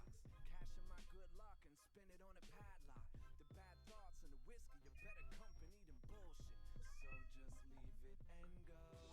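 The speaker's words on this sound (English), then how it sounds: "I don't know if you can hear him meowing," A cat meows repeatedly over a busy, loud background of other sounds, its rising and falling cries clearly audible throughout.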